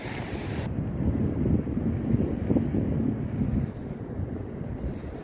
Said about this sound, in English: westerly breeze blowing at the moment.